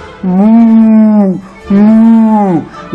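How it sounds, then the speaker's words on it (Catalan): A cow gives two long, loud, drawn-out moos as a sound effect in an animated farm story, heard alone with a short pause between them. "Va mugir."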